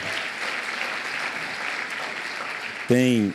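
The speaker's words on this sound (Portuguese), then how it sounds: "Vamos aplaudir a Jesus pela vida do apóstolo." A church congregation applauds steadily in a large hall, an even wash of clapping that runs for about three seconds before a voice briefly speaks over it at the end.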